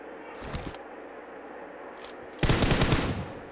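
An M24 sniper rifle fires in BGMI: a sharp shot, then a faint crack, then a louder blast with a ringing tail, over a quiet background.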